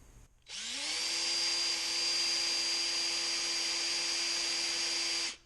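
A power drill bores a hole while repairing a Corona 3354 weeder, spinning up with a rising whine and then holding a loud, steady high-pitched drone for several seconds before cutting off.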